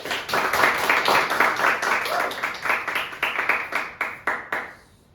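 Classmates clap together in a classroom after group representatives finish a free-fall experiment presentation, a close burst of rhythmic hand claps that thins out and stops near the end.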